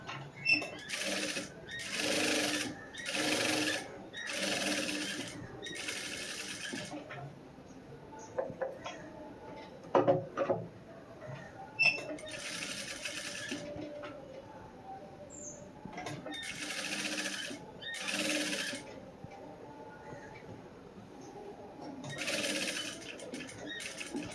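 A sewing machine stitches the back piece of a blouse in several bursts of rapid whirring, with short pauses and faint handling of the fabric between runs; no voices.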